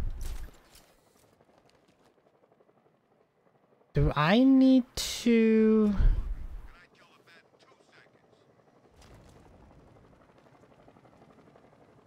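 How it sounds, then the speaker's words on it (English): Helicopter in the video game Batman: Arkham Knight, heard as a steady low rotor drone faint beneath a voice, with a louder burst of other game sound in the middle of the stretch. "Yeah, I hear a helicopter."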